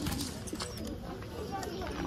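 A ten-year-old pet pigeon coos softly amid steady background noise, with other birds faintly audible and a voice nearby.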